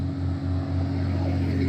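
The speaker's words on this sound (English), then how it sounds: "Road traffic" Steady road traffic rolls past on Interstate 81, heard from a trail passing beneath the highway as a loud continuous low rumble and engine drone without a break.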